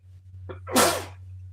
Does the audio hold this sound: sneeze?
yes